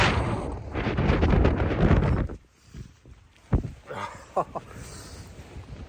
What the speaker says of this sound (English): See if I can show you without getting absolutely battered by the wind.